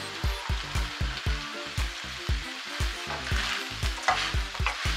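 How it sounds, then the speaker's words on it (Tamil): Aviyal, a mixed vegetable curry with curry leaves, is stirred in a pan in slow, regular scraping strokes about twice a second over a soft, continuous sizzle. "இப்போ வந்து நல்லா கிளறி விட்டுக்கோங்க பொறுமையாக கிளறணும் காயெல்லாம் உடையாமல்"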